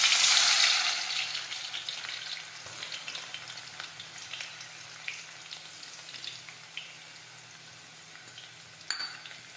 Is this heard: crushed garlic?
yes